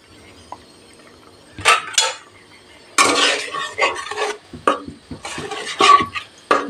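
A metal spoon scrapes and stirs prawn curry ingredients with ground nut paste in a pan over medium heat, in irregular clattering bursts with short pauses between them, close by.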